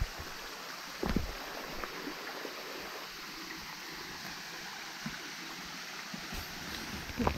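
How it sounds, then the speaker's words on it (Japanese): A small waterfall pours over a single broad rock face on a mountain trail, giving a steady, soft rushing wash heard at close range, with a few faint bumps and no talk. "これは完全に滝ですね"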